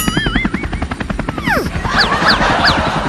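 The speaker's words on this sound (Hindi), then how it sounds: "मैं बोला था ना कि मुझे हेलीकॉप्टर उड़ाना आता है।" A cartoon helicopter flies with a loud, rapid rotor chop that pulses steadily throughout, overlaid with whooshing swoops and whistling comedy sound effects.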